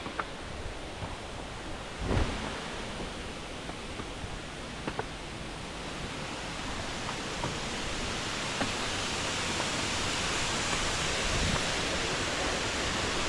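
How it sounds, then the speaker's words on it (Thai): A waterfall at Than Lot Noi cave in Kanchanaburi, Thailand, a steady broadband rush of falling water that stays constant and close, with a few faint knocks and splashes over it. "น้ำตก"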